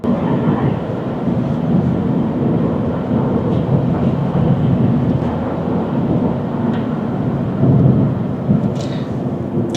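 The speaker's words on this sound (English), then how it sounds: "wind noise and a bit of tire noise as well" Steady loud rumble of wind rushing past a 2017 Toyota C-HR Hybrid at about 110 km/h, with a low tire roar underneath, continuous and unbroken.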